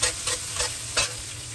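Soup in a pot is stirred, three or four quick scraping strokes over a continuous bubbling hiss, close and alone.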